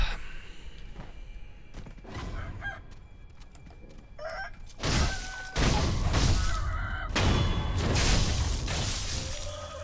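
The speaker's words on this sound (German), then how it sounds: "Ah, ein Huhn." A chicken in the video game Sekiro clucks and squawks amid game sounds, with loud bursts of flapping and crashing noise in the second half, fairly close and prominent.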